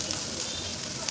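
Onions frying in oil in a pan while a Bengali fish curry is being cooked, a steady close sizzle and hiss running evenly throughout without pause.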